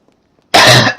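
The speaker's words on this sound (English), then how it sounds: "I just got a really bad cough now." A man gives a single harsh, loud cough right up close to the microphone after near silence, a raspy burst followed by a brief second catch, while playing GTA V Online.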